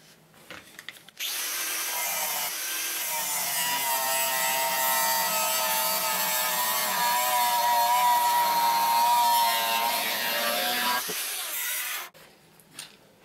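A power saw cuts steadily through the metal axle of a firewood transporter for about ten seconds, a loud continuous grinding rasp with no talking, starting and stopping abruptly.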